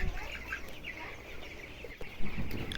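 Soft clucking and murmuring from a crowd of broiler chickens fills a farm shed, with a few brief rustles and knocks nearby.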